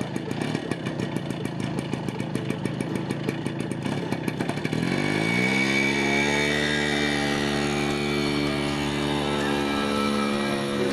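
Engines rev up with a rapid, rattling pulse at first, then settle into a smooth, rising drone as the vehicles pull away. The sound stays loud and close, and no voices are heard.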